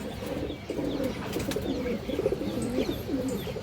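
Pigeons at a bird sale coo in repeated low, rolling phrases, close and fairly clear over faint background noise.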